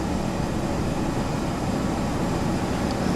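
An Embraer ERJ airliner in Flight Simulator X climbs after takeoff with the gear up, its engines a loud, steady, continuous roar with no voices over it.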